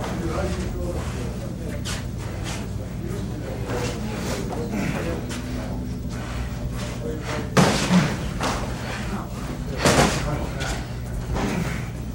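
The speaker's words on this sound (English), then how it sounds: "That's a good body shot." Body punches landing during 1987 boxing training for a heavyweight unification bout, heard as a couple of dull, heavy thuds near the middle of the stretch, set against continuous gym noise and coaching talk.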